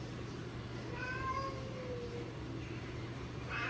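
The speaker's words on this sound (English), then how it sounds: "I know you're upset, Kitty" An upset cat meows indoors, giving a couple of short drawn-out cries over a constant low electrical hum and room noise.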